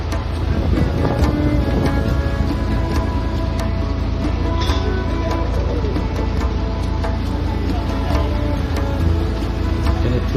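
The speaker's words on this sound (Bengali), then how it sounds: "প্রচন্ড হাওয়া।" Strong wind gusting across an open riverside setting during an outdoor hilsa fish festival in the Sundarbans, a loud, steady roar buffeting the microphone throughout with faint background bustle.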